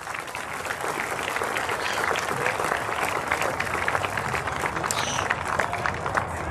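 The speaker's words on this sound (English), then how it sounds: "Matt, let's give a round of applause for our treasurer, Matt Cato." A crowd at a youth baseball closing ceremony claps steadily for several seconds, a dense, even patter of applause with scattered cheers, fairly distant and with no one speaking.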